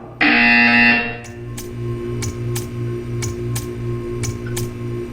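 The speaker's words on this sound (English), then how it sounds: "You will hear a buzzer." A loud harsh buzzer in the Portal 2 video game sounds for about a second, followed by a series of sharp clicks over a steady electronic hum.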